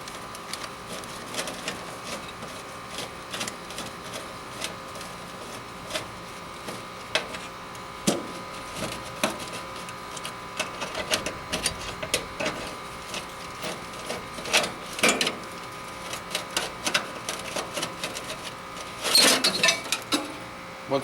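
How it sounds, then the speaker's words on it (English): Burner retaining screws come out of a Napoleon gas grill, with a steady mechanical whir under repeated clicks and scraping metallic taps that grow busier and louder toward the end, close by and without talk. "So to remove the burner, we have to remove the burner retaining screws"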